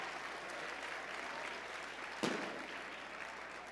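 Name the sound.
audience applause at benefit event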